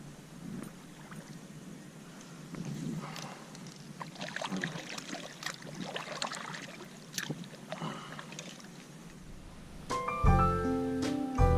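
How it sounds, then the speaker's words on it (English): Paddle strokes and water sloshing around a fishing kayak drifting on a lake while bass fishing, steady splashy wash, followed by a brief burst of brighter tonal sound near the end. "I'm gonna have to paddle because the drift is taking me the other way."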